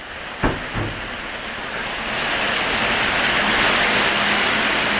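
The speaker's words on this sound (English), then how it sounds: "Well, it's definitely raining." Steady rain falling outdoors, a broad continuous hiss that grows slightly louder after a couple of seconds, with a few brief knocks near the start and no voices.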